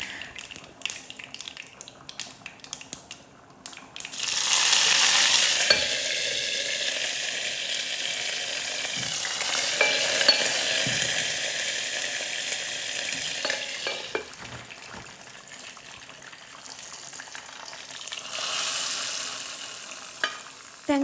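Mustard seeds, curry leaves and dried chillies splutter in a hot tempering and are poured into boiling coconut milk, giving loud close frying that swells in bursts and then settles into a steady hiss, broken by stirring clinks.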